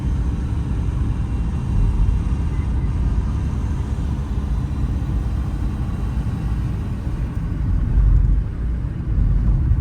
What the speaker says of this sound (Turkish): Evet hızlandık. İkinci vitesi attık.